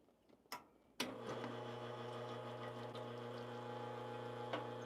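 A Lelit Bianca espresso machine's pump switches on after a couple of clicks. It then hums and buzzes steadily, holding a constant tone close by.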